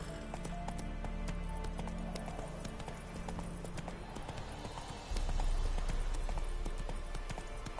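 Horse hooves clip-clopping at a steady rhythmic gallop in The Witcher 3, close and continuous over a low rumbling background, growing slightly louder toward the end.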